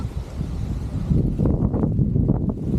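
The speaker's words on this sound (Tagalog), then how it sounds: "Lakas pa ng hangin." Strong wind gusting and buffeting the microphone in low rumbling bursts, continuous and close.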